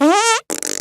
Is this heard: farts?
yes